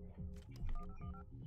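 Telephone dialing tones from an old Nokia-style phone in the horror game Buckshot Roulette: several short beeping keypad tones in quick succession over a low, steady musical drone.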